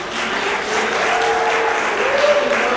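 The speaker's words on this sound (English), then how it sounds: "Francesca and MiMi a round of applause." Audience applause at a poetry evening, a steady wash of clapping from a crowd that holds level for about three seconds with no speech over it.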